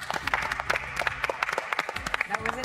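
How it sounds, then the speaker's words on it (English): An audience at a team cooking competition applauds after the countdown ends, with a quick stream of close, uneven hand claps lasting a few seconds at moderate volume. "Give yourselves a round of applause."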